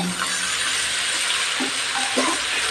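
Finely chopped greens fry in a pan, making a steady close hiss of sizzling oil. Light stirring scrapes come at a few points over the short stretch.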